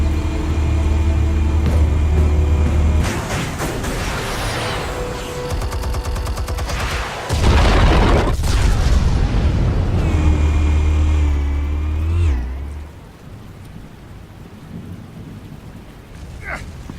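Explosives detonate in a Batman Telltale scene, a long heavy rumbling blast with crashing debris and rolling booms that fade into quieter settling noise.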